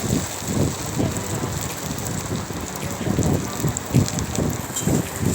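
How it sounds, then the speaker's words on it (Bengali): Onion frying in a pan for a Bengali matar ghugni, a steady close crackle and sizzle of oil with small bursts of spitting, continuous throughout with no talking. "একটু সময় ধরে পেঁয়াজটাকে ভাজবো।"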